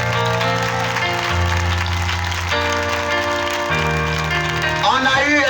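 Applause from a large crowd at an outdoor evangelism crusade in Guibéroua, Côte d'Ivoire, a steady wash of clapping that continues under loud sustained music throughout.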